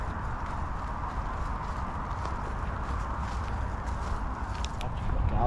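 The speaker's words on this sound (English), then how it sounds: "some more horses along the path" Horses clopping along at a steady walking pace over a steady outdoor rumble, hooves close by and moderately loud.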